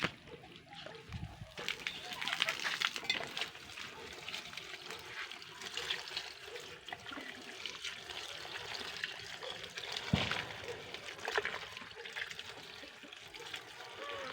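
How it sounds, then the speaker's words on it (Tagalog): Water pours into a large cooking pot of bananas being boiled as chicken feed, a sloshing, trickling stream with splashes, fairly faint and continuous, with occasional soft bumps. "lalagyan natin siya ng tubig"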